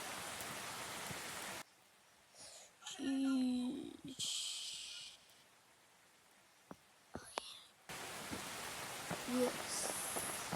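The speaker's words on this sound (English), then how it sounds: "It's rainy" Steady rain hiss in an off-roading video game comes in two spells, one at the start and one at the end, with a quieter stretch between them holding a few short game noises.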